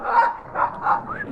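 Several dogs on a farm give short yips and excited barks in quick succession on a crisp, cool day, fairly close, with people talking over them.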